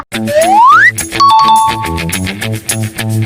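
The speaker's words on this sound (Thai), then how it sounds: "อย่าลืมกดกระดิ่ง" A bright notification bell dings over upbeat music after a rising whistle-like sweep, with a sustained chime tone ringing out clearly and loudly.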